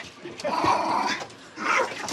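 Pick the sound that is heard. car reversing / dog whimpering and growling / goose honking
dog whimpering and growling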